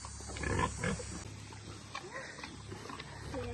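Pigs on a farm grunting and snorting up close in short, uneven bursts, with a person's voice faintly in the mix.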